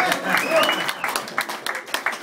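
A live audience at a talk breaks into brief applause, a dense patter of clapping lasting a couple of seconds, with a voice speaking over it.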